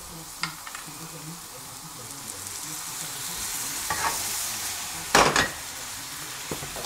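Mushrooms cooking in a pan for a mushroom and truffle cassolette as cream is poured in, a soft continuous sizzle broken by a few stirring scrapes and one louder clatter of utensil against the pan.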